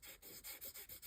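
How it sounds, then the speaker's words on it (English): Fingers rub gently across watercolour paper to lift dried masking fluid, giving a soft, close, rhythmic scuffing of about six quick strokes. "You can use your fingers and just rub really gently."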